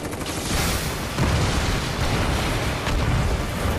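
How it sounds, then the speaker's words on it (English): Explosions roar through a battle in Final Fantasy VII Remake, a steady loud rumbling blast with broad crackling debris and a couple of heavier booms swelling near the middle and end, no voices. "So even the explosion sound look wonderful."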